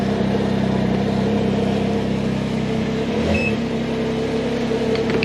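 Engine of a 2022 Can-Am Ryker fitted with a cold air intake, running at a steady idle: an even low drone with a constant hum throughout, no voices.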